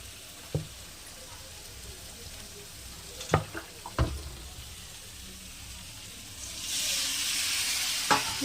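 Fish pieces for a fish curry go into a hot pan. A few sharp clinks and knocks come first, then a loud, steady frying sizzle bursts up near the end.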